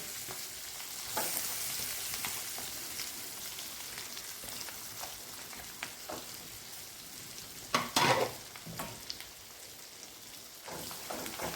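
Prepared masala hits hot oil in a pan of peanut curry, a soft, steady sizzle with scattered scraping stir strokes and one louder burst of spattering midway, heard alone without talk.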